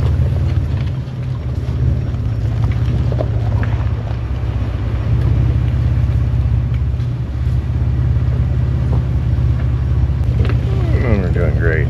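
A CF Moto side-by-side engine idles out in the bush, a continuous low drone that holds steady throughout, overlaid with heavy wind buffeting on the microphone.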